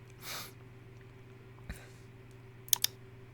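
A few sharp computer mouse clicks, faint and close, with a brief soft rustle before them and a quiet steady hum underneath.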